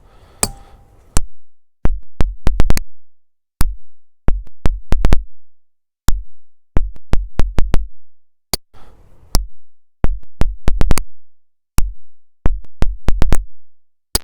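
Sharp metallic hammer strikes on steel wedges and feathers set in rock ring out in irregular clusters of two to four blows, separated by brief pauses, loud and close.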